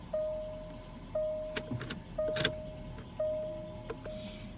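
A Jaguar XJ's rotary gear selector rises at start-up amid a repeating electronic chime of four evenly spaced tones, with faint mechanical clicks and a soft whir in a quiet cabin.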